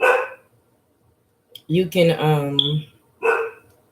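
A dog barking indoors, sharp barks at the start and end with a longer tonal yelp in the middle, loud and close, with a person speaking briefly between them.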